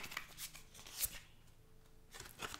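A tarot card is slid and drawn from the deck in a quiet room, giving soft papery shuffling rustles with a sharper flick near the middle and another burst of card noise at the end.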